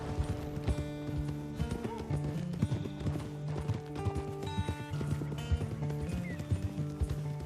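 In the Red Dead Redemption 2 video game, horse hooves clip-clop steadily over ground with an occasional whinny, mixed with game music and a voice.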